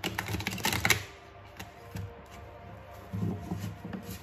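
Large oracle cards are shuffled by hand in short bursts of crisp flapping and riffling, close and quiet, with pauses between the bursts.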